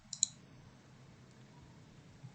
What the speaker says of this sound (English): So if I click OK,